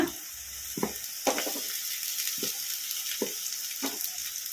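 Onions and cabbage frying in oil in a home kitchen while egg rice is prepared, giving a steady close sizzle broken by several sharp bursts as the vegetables go in and are stirred, with no talk.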